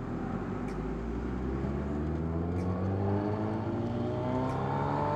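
A 2015 Suzuki Hayabusa motorcycle engine revs in first gear, a steady loud roar with rising harmonic tones that climb as the revs build, continuous with no talk.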